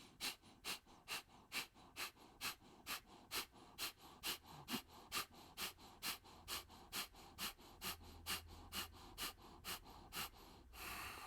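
Rapid rhythmic breath-of-fire breathing during a Warrior Fusion Flow workout, about two dozen sharp, evenly spaced nasal exhalation bursts at close range, ending in a longer breath.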